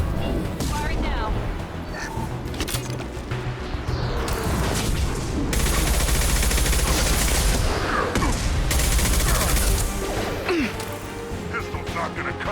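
Dense, rapid gunfire from a Mass Effect 2 firefight rattles on without pause for the whole stretch, loud and close, with sharp impacts and other battle noise piled on top.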